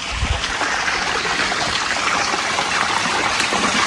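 Water from a stream runs on a small farm in winter, a continuous close rush and trickle with faint splashing and a low thump at the start, steady throughout with no talking.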